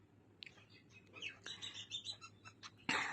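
A small bird chirps at a window pane, giving a run of faint, high, quick tweets over a low steady hum, with a louder rustling burst at the very end.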